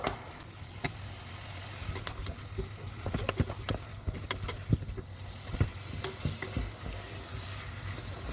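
Potatoes, carrot and other ingredients stirred in a cooking pot for a pea stew, a steady soft sizzle broken by irregular scrapes and clicks of the spoon, close up with no talking.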